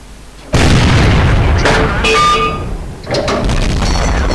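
A tank gun fires in World of Tanks from an SU-85B tank destroyer aimed at a Churchill. It is a single loud, close boom that strikes suddenly after a quiet start, then gives way to rumbling battle noise and softer clanks.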